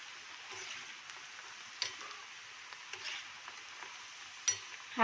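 Raw banana wafers frying in hot oil over a high flame, a faint steady sizzle with occasional soft scrapes and taps as they are stirred.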